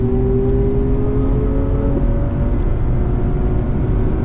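A BMW M240 race car on the Spa circuit at full throttle, its engine droning loud and steady from onboard with a rising whine throughout.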